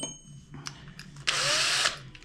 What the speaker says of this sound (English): So we'll drill the 2 holes now all the way through.